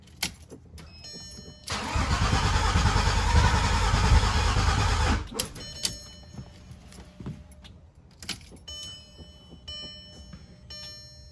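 A freshly built car engine cranks and catches, roaring loudly and steadily for about three seconds before cutting out, followed by scattered clicks and faint workshop noises.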